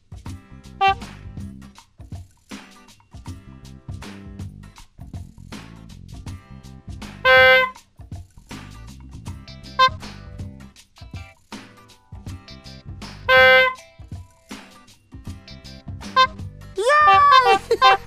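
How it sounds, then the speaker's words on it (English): Cartoon horn honks in a Sesame Street video game, several short bright toots spaced through the clip over bouncy game music, with a burst of rising tones near the end. "Helping Elmo honk"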